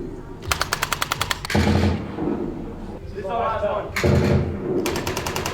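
Rapid machine-gun bursts and booming shots in a military shooting simulation at the West Point Simulation Centre during the Sandhurst Cup competition, loud and close, with shouted voices and commands between the bursts.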